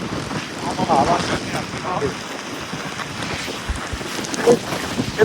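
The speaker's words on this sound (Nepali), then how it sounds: "एकदमै ठुलो हावा लागेको छ" Strong wind buffets the microphone on Mount Hamilton near San Jose, California, a steady rushing roar with louder gusts throughout, while people talk and laugh over it.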